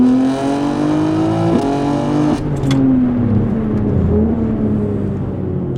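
A stage 2 tuned BMW M3 G80 with its exhaust valves open accelerates hard. The engine climbs in pitch, and two sharp gear shifts come as quick drops and restarts. The loud engine note continues without speech over it.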